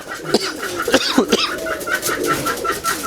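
Domestic pigeons of many native breeds coo close by on a farm, several birds overlapping in soft rolling calls with a steady high chirping in the background.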